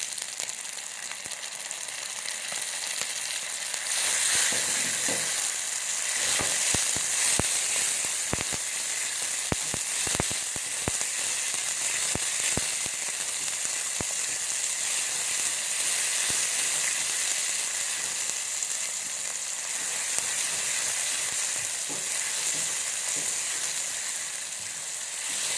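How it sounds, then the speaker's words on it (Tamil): Ingredients for a homemade Italian lasagna fry in a pan, a steady, close sizzle with scattered sharp crackles and pops running throughout, with no talking. "ரொம்ப ஃப்ரை ஆக வேண்டியதில்லை"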